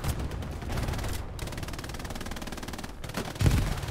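Sustained automatic fire from a mounted machine gun with rifle shots mixed in, in the video game Hell Let Loose: a rapid, even burst of rounds running nearly nonstop, loud and close, with a heavier thump near the end.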